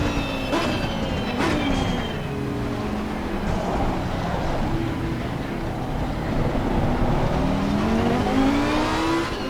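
A GT race car engine at Monza in the video game Assetto Corsa Competizione, a continuous loud drone rising and falling in pitch through gear shifts and acceleration, with no talking.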